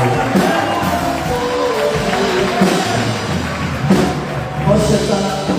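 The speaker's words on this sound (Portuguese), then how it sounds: "Dá um forte aplauso ao Senhor" A church congregation gives loud, sustained applause, a dense, continuous wash of clapping with voices mixed in.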